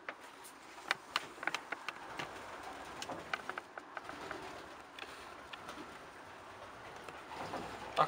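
Racing pigeons of the Vos breed cooing softly in a loft, a low continuous murmur with scattered sharper flutters and clicks, with no speech.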